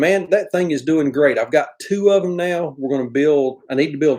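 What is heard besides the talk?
None of the usual background noises is heard.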